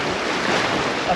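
Open Pacific Ocean waves wash and slosh around a 37-foot sailing yacht far offshore, a continuous close rushing swell mixed with wind noise across the microphone, with no voices.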